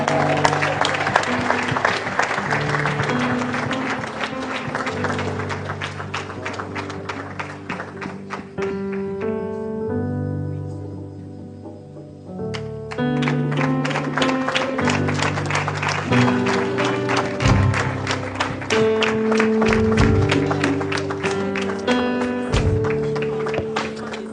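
Applause at a 56th birthday celebration: sustained crowd clapping mixed into loud, ongoing music, with a brief quieter lull midway before the clapping and music swell again.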